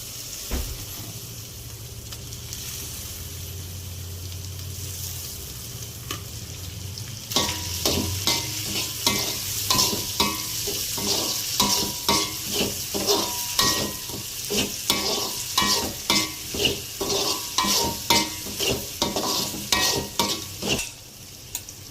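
Tomatoes sizzle steadily in a pan, then a utensil scrapes and stirs in a quick, regular rhythm, close and fairly loud.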